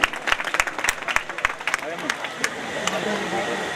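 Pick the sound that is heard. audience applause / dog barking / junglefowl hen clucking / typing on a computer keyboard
audience applause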